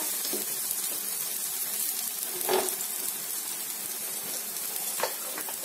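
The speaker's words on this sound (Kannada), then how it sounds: "ಇದನ್ನ ತೆರಿಗೆ ಹಾಕೊಂಡ್ಬಿಡೋಣ ಎರಡು ಸೈಡ್ ಚೆನ್ನಾಗಿ ರೋಸ್ಟ್ ಮಾಡ್ಕೊಳ್ಬೇಕು" A tomato omelette dosa roasts on a hot pan, giving a steady, close sizzle and fry with a few soft scraping or stirring touches, no voices present.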